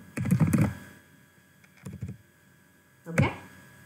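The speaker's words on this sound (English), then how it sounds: "Here you can type a name." Computer keyboard keys clatter in three short bursts of typing as a folder name is entered, close and fairly quiet, separated by pauses with no talking.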